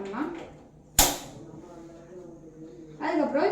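A single sharp gas stove ignition click snaps out near the start, followed by a low steady hiss, with a voice talking before and after.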